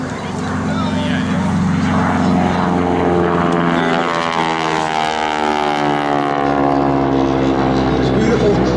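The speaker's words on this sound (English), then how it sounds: "here comes Kevin Russo, right to left. And he's going to crank it up in a photo pass here with the smoke on." A North American SNJ/T-6 propeller trainer makes a smoke-on photo pass at an air show, its radial engine droning loud and close with a rising then falling pitch as it sweeps past from right to left.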